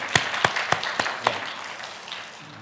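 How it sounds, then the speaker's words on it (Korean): A handful of sharp, separate claps from a church congregation at a Sunday service welcoming a deacon, spaced apart and fading out after about a second and a half. "우리 큰 박수로 우리 집사님 환영하도록 하겠습니다"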